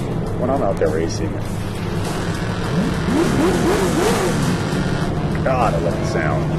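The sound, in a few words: drift car engine exhaust revving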